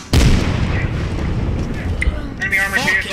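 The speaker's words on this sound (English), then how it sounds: "we got an MBT shooting down on a ship here" A main battle tank firing in the video game Squad, one heavy booming blast at the start that rumbles away, followed by faint radio-like voice chatter.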